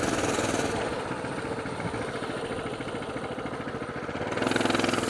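A Coleman mini bike engine runs steadily and close by, its fast, pulsing putter holding an even, rough rhythm before it swells slightly louder at the end, with no one talking.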